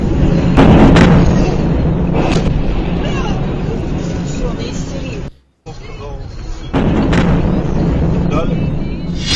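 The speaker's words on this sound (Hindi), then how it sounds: "आप सुनेंगे उन धमाकों की आवाज तो आपको मालूम हो जाएगा कि किस कदर धमाके हुए हैं" Heavy, booming blasts from the Russia-Ukraine war roll in one after another, dense and rumbling, with a brief silent cut midway before the thunderous bursts resume.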